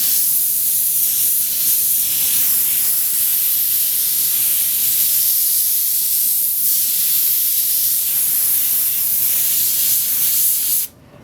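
Airbrush spraying paint for a second stroke on lettering, a loud, close, steady hiss that runs unbroken for about eleven seconds and then cuts off abruptly.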